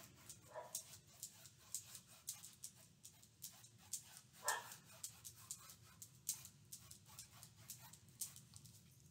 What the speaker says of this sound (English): listen to the little dog across the street.